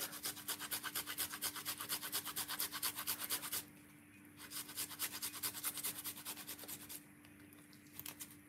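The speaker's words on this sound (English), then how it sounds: "Grate a piece of a ginger." A piece of fresh ginger is rubbed quickly across a grater in fast, even rasping strokes. The close, quiet scratching pauses briefly and then resumes in a second run of strokes.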